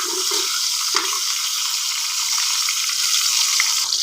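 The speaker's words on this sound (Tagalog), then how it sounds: "Talong. Prituhin ko muna lang." Eggplant slices fry in a pan of hot oil, a steady broadband sizzle running throughout with a couple of brief soft knocks near the start, no talking.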